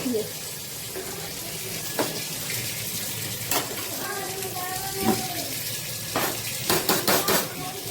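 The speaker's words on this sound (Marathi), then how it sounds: "जी प्लेट झाकतोय त्या प्लेटमध्ये मी पाणी घेतलेलं आहे" A plate holding water is set over a pan of desi butter chicken cooking in its own juices, giving a few sharp metallic clinks and scrapes against a steady watery hiss, with a voice talking over it.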